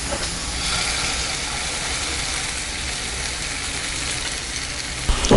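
Egg batter for a brinjal ring omelette sizzles in hot oil, a loud, dense, continuous hiss close up with a sharp clatter at the very end.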